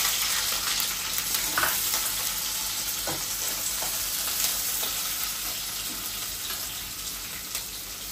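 Onions frying in oil for nalleru pachadi give a steady, dense sizzle throughout, with occasional soft clicks of stirring and no voices.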